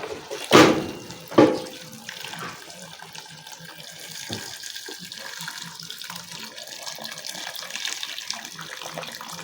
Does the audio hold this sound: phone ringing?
no